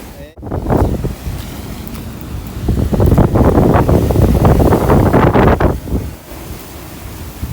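Sea waves surging and crashing onto a rocky shore during rough seas, a loud continuous roar of breaking surf with strong wind buffeting close by, rising and falling in waves.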